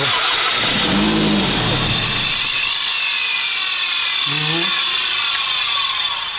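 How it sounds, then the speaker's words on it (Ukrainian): A constant mechanical whirring and high grinding whine from a Nissan X-Trail's alternator overrunning clutch with the engine running, with brief rubbing squeals, loud and close throughout. "він крутиться, це обгонна муфта шумить"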